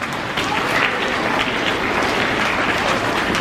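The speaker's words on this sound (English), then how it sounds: "Give him a round of applause." An audience at Rosamond Elementary School claps and applauds loudly and steadily for a few seconds, close and full, with a few voices mixed in.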